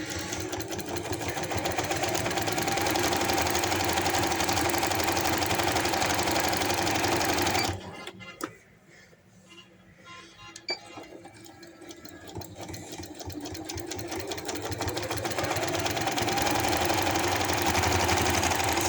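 A sewing machine stitches a handkerchief baby frock in a long steady run of rapid mechanical whirring, pausing in the middle for a few seconds of quiet handling before the stitching starts up again.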